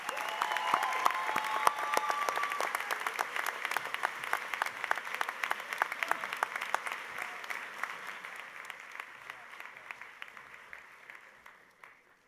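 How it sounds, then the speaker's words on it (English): An audience at a university honors convocation claps for honor students, a dense sustained wash of applause that starts full and gradually thins and fades toward the end. "Let us now celebrate these honor students with our applause."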